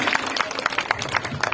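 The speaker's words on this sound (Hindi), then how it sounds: "जोर से तालियां" Audience at a Janmashtami temple celebration in Jamli, Himachal Pradesh, clapping in a rapid burst of claps over a short stretch, with voices mixed in.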